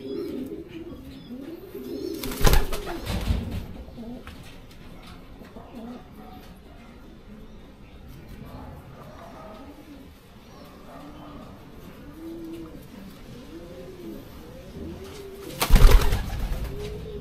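Racing pigeons coo steadily in soft repeating phrases close by, with a couple of brief loud bursts of flapping or handling noise.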